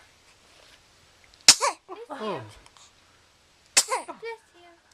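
A young girl lets out two sharp, sudden sneezes separated by a few seconds, each followed by brief vocal sounds, while a voice speaks between them.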